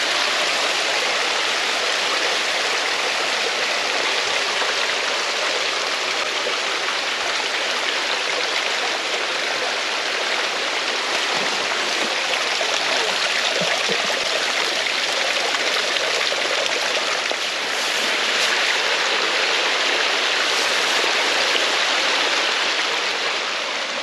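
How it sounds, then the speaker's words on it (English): A waterfall in Tyrone pours continuously, a loud, broad rushing roar close by that stays steady throughout with no voices over it. "Waterfall. How cool is that?"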